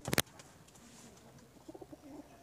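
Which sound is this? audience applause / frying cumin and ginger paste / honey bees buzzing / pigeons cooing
pigeons cooing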